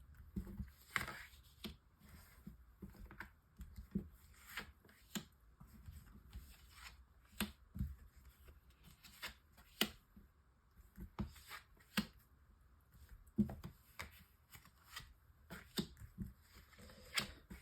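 Tarot cards are shuffled and drawn, giving quiet, close riffling and sharp snapping clicks in irregular bursts throughout.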